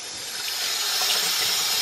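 Tap water runs into a sink to dampen a clean towel, a steady close hiss that swells slightly louder over the brief stretch, with no talking.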